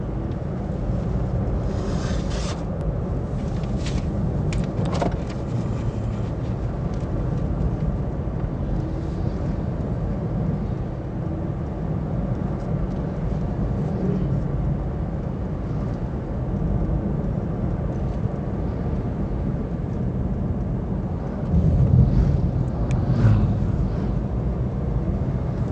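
Honda Brio car cruising above 60 km/h, a steady low road and engine rumble with tyre noise heard from inside the cabin, constant and unbroken throughout, with a slightly louder swell near the end.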